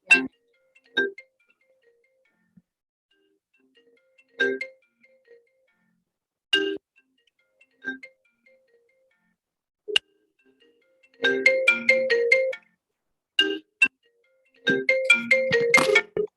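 A phone ringtone plays in short electronic bursts of melodic tones separated by gaps, clear and fairly loud against near silence, with denser runs of notes toward the end.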